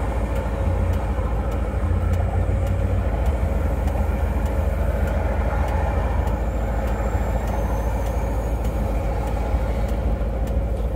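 A 1983 Mazda B2000 pickup truck is driving, heard as a steady, loud engine and road drone from inside the cab that runs unbroken throughout, with no talking.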